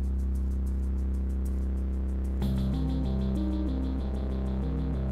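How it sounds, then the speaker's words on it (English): Eerie synthesized portal music from the video game Firewatch: a steady low drone and shimmering tones, then a louder pulsing melodic figure that steps between pitches, moderate and continuous without speech. "Oh, that sounds like some portal music."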